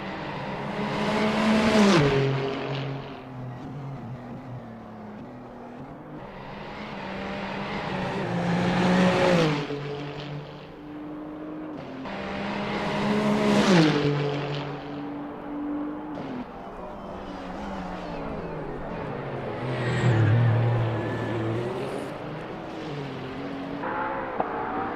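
LMDh prototype race cars lapping Road America in Assetto Corsa, engines rising and falling through gears in repeated surges every few seconds, with faint tire squeal, loud and continuous with no talk.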